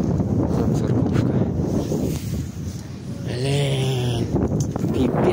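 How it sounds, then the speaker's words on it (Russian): Cold wind gusting outdoors by a small church, blustery microphone buffeting that rises and falls, with someone speaking briefly over it and a faint tonal hum midway. "ветер какой-то холодный поднялся"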